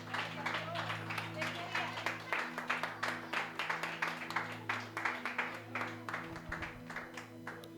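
A church congregation applauds together, with dense, rhythmic clapping that continues throughout over a steady background of sustained tones.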